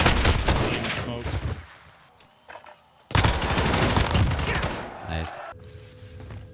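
Rapid automatic gunfire in the battle-royale shooter Call of Duty: Warzone, loud close bursts of shots that break off into a short lull, then resume in another sustained volley, with players talking over it.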